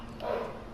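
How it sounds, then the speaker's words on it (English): A single loud dog bark in the Sekiro video game, a brief punchy burst rising out of steady game ambience and fading quickly, with no talk over it. "That was a fucking loud bark, did you hear that?"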